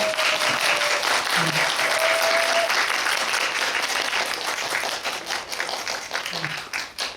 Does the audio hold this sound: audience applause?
yes